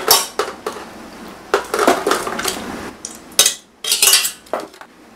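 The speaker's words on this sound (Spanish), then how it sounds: "Primero voy a agregar la pasta" Cooked elbow pasta for a cold chicken salad is spooned into a metal tray, with repeated close clattering scrapes and clinks of utensil against tray in uneven bursts.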